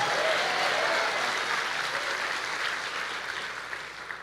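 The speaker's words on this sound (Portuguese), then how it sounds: "Vamos dar uma salva de palmas ao Senhor." A church congregation claps steadily in sustained applause, a dense wash of many hands that slowly fades toward the end, heard from within the hall.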